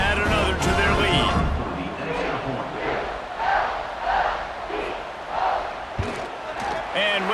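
A stadium crowd roars throughout a college football video game between San Diego State and Fresno State. The noise is loud and swells in waves, with a commentator's voice talking over it.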